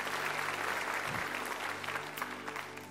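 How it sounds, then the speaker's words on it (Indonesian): Applause from a church congregation at an Easter Passover service fills the space steadily, a dense, continuous wash of many hands clapping at moderate distance with no voices over it. "Boleh kasih tepuk tangan buat Tuhan kita."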